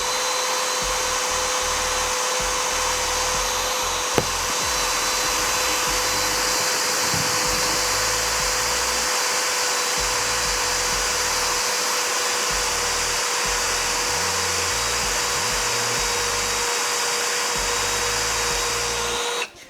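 A power drill fitted with a multi-construction bit grinds into metal, a steady loud high-pitched whirring drone held without pause for nearly twenty seconds before stopping abruptly.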